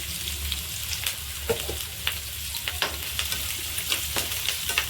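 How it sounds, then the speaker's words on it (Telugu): Onions, green chillies and curry leaves fry in hot oil for an aloo paratha snack, giving a steady close sizzle with scattered crackles and scraping stirs, no voices present. "కొంచెం బాగా వేగాలండి ఆనియన్స్"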